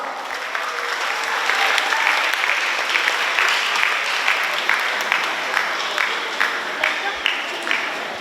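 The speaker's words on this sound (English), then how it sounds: "May we please give them another round of applause." Sustained applause from a graduation ceremony audience, steady and dense throughout with individual claps standing out, filling a large hall.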